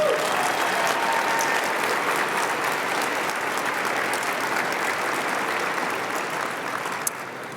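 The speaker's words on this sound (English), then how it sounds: "Let's give them a hand of applause, please." A crowd applauds steadily for several seconds at a medical school Match Day ceremony, the clapping fading slightly before ending.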